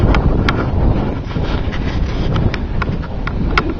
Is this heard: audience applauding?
no